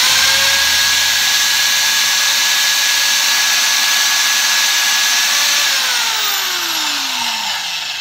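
A Rothenberger Robend 4000 electric pipe bender bends copper pipe with a loud, steady motor whine whose pitch holds level, then slides downward near the end as the machine slows, with no voices.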